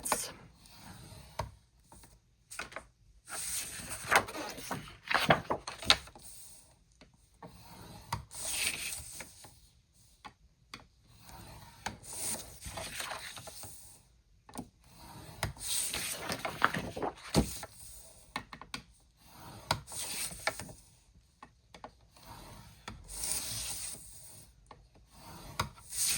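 Paper being scored half an inch in from the edge on three sides of a 7.5 by 11 inch sheet for an interactive album, heard as repeated close dry rubbing and rasping strokes in bursts with short pauses, no talking.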